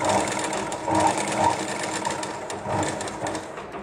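A sewing machine stitches a neckline on cloth in a tailoring class, running with a steady close whirring hum and rapid needle chatter that swells slightly, no voices.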